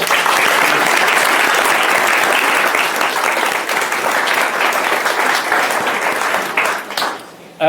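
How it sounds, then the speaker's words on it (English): Wedding guests at a reception break into a loud, sustained round of applause that holds steady, then tapers off abruptly near the end. "Round of applause for her"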